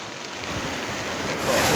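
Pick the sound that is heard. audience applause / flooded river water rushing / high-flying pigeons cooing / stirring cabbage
flooded river water rushing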